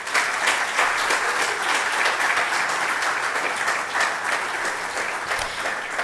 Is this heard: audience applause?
yes